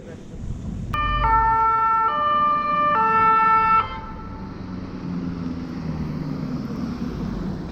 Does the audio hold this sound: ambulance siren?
yes